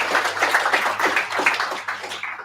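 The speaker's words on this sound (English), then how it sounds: "Round of applause" Lively applause from a meetup audience at a serverless tech gathering in Sydney, a steady dense patter of many hands clapping close and fairly loud for a couple of seconds, with a low hum underneath.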